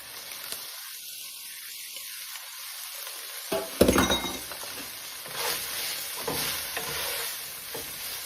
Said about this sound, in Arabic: ونحمسه كله زين بالزيت والبهارات